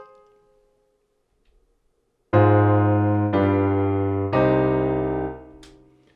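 Three sustained piano chords in a IV-V-I progression, each struck firmly and left to ring, follow about two seconds of near silence. The final chord fades out slowly with no talk over it.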